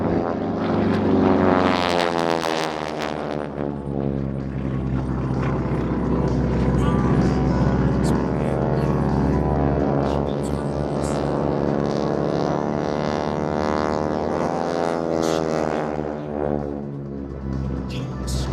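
Several T-6 Texan propeller aircraft of an airshow aerobatic team at the Stuart Airshow drone loudly and continuously as two planes converge in an opposition loop, their engine pitch sweeping as they pass.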